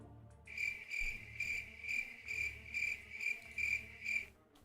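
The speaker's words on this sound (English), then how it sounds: "That was the crickets right there." Crickets chirp in steady, evenly spaced pulses, about nine bursts in quick succession, clear and fairly close against a quiet background with no voices.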